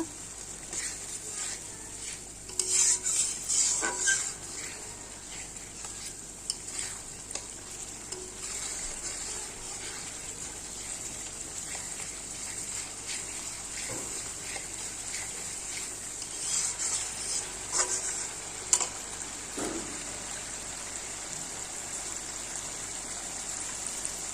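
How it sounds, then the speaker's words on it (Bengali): Spices sautéing in a pan for a Bengali fish curry, a steady broadband sizzle with intermittent scraping stirs, moderately close and with no voices. "মশলা কষিয়ে নেব।"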